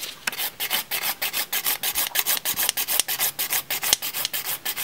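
Fast, steady back-and-forth rasping of a file shaping the tip of an upward-growing fingernail during a nail correction, close and fairly loud, with dozens of even strokes running through the whole stretch and no talk.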